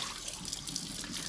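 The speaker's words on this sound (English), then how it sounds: "run it through warm tap water, and just rinse one by one" Dried chiles are rinsed one by one under warm running tap water for Mexican chorizo, a continuous close splashing hiss of water with small drips and patters, heard alone without talk.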